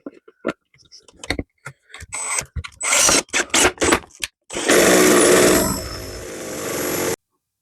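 A series of sharp clicks and knocks is followed by a sustained, rough, grinding whir of about two and a half seconds as a bit drills halfway into 18mm plywood. The sound is close and fairly loud.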